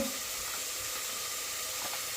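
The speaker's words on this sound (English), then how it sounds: "So I'm just going to pour my sauce in now." Madras curry sauce poured into a hot pan, a steady broad sizzling hiss that stays loud and even throughout, close by with no talk.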